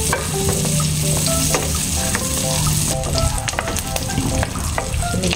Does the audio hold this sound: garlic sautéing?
yes